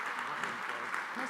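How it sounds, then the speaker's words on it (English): An audience at a research careers conference claps in a short, steady burst of applause, dense and even and heard at moderate volume, while a voice talks over it. "Please give him a round of applause."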